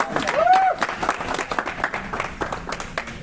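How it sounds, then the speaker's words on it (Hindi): An audience at an Indian Mi Lifestyle distributor meeting claps loudly for a few seconds, a dense patter that thins toward the end, with a brief voice overlapping at the start. "एक बार जोरदार ताली होनी चाहिए"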